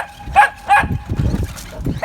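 A one-year-old puppy barks at a toy car, giving two quick yips followed by a few softer, scruffier barks close by.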